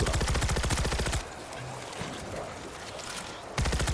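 Rapid gunfire bursts in the zombie shooter World War Z: Aftermath, loud and dense at the start and end with a quieter stretch of background noise between them.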